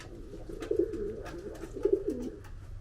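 Pigeons coo nearby inside a historic stone bird tower in Turkey, soft throaty rolling calls in two main bursts with quieter murmuring between them.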